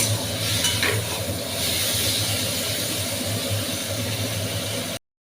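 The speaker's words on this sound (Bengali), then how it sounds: "তো এখন ভালোভাবে এটা নাড়াচাড়া দিয়ে একটু ভেজে দেবো।" Onion and tomato stirred and frying in a pan, a steady sizzle with scraping stir strokes near the start, continuous and close, then cutting off abruptly near the end.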